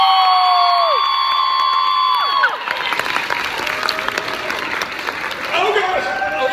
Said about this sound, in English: Ladies and gentlemen, give a big round of applause to Mr. Keith Silverstein, who voices Hawkmoth.